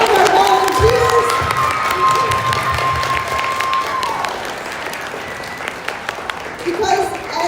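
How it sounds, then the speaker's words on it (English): An audience at The Amazing Shake 2026 event claps for volunteers, sustained crowd applause with a voice carrying over it at first, then the clapping continues alone and gradually thins out. "can we just give a big round of applause to all of our volunteers?"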